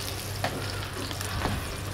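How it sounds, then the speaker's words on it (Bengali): Pieces of fish roe frying in oil in a pan for a spiced bhuna, an even crackling sizzle with a few faint stirring scrapes, close and moderately loud, no one talking. "পিস পিস করে আবার লাল করে ভেজে নিব সুন্দর করে"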